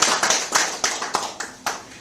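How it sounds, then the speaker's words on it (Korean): Several sharp claps ring out in an uneven rhythm, like a small group applauding briefly, close by and fairly loud. "박수로 맞이해 주시기 바랍니다."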